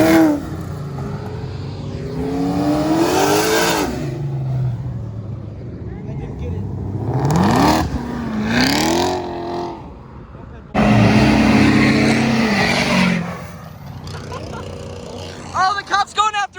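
1000+ horsepower Toyota Supra leaving a car meet, with bursts of hard revving and rising engine pulls mixed with excited shouting nearby, and a final loud acceleration run before fading to crowd noise.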